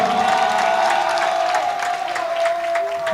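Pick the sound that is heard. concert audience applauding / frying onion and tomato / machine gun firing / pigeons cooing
concert audience applauding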